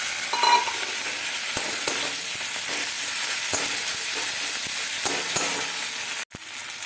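Chopped tomato fries with ginger and garlic paste in a pan, giving a steady close sizzle broken by soft scraping and stirring clicks, with a brief pause near the end.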